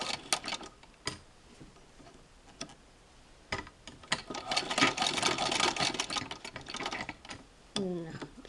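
A Singer 15-88 sewing machine stitching through a zigzagger attachment gives bursts of rapid ticking and clattering, with pauses between runs and louder, denser stitching in the middle stretch.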